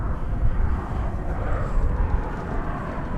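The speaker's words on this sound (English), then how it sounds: "there's another Frontier flight coming in. This one is from Tampa, Florida. It's an Airbus A321." A Frontier Airlines Airbus A321 arriving at Dallas/Fort Worth Airport, a steady broadband jet engine roar with low rumble, continuous and moderately loud throughout, no voices.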